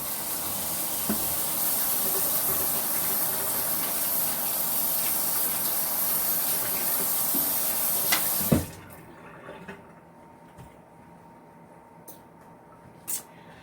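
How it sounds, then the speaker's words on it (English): Water runs steadily from a kitchen tap as hands are washed, a broad even hiss for about eight seconds before cutting off abruptly, leaving a quiet room with a few small knocks. "I'm going to wash my hands."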